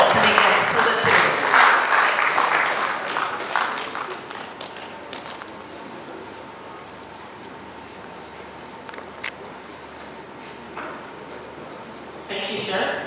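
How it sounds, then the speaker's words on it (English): Applause at an environmental engineers' inauguration ceremony, a burst of clapping that fades after a few seconds into a quiet room with scattered taps and footsteps. "Can we please give him a round of applause when he gets to the table?"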